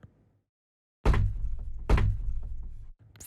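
Two heavy knocks land about a second apart after a short silence, each a loud, booming thud with a ringing tail, the strange knocking sound in a cartoon for young children.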